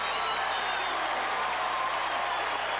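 Steady roar of a large arena crowd, about 12,000 spectators, at a 1984 MISL indoor soccer championship game between the Baltimore Blast and St. Louis Steamers, a continuous dense wash of noise with no distinct cheers standing out.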